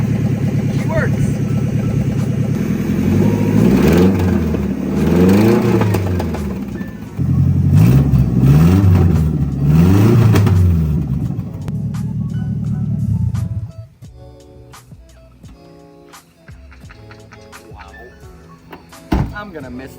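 A rebuilt Nissan Skyline R33 engine cranks on its first start, catches and runs with rising revs, rough and loud up close, then drops to a lower idle with clanks and a sharp knock near the end.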